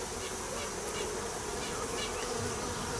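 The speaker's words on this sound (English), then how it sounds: "there's a lot of bees spreading scent around" Dense, steady buzzing of many honey bees from a swarm close by during a hive inspection, a continuous hum with no pauses.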